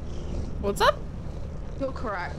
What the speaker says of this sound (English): No wonder they're purring so loud.